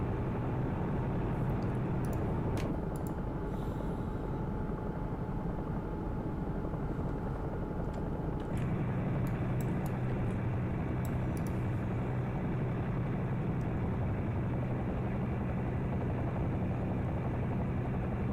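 A Bell 222 helicopter in the X-Plane 11 flight simulator drones on with a steady turbine whine and rotor thrum, loud and continuous, the engine tone shifting partway through.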